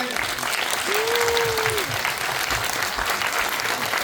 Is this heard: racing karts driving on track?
no